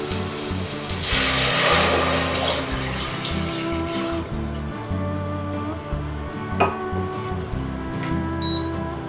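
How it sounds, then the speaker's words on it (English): Water, about half a liter, pours and splashes steadily into a pan for risotto, loudest at first, then settling into a gentler stream. "We now add the water."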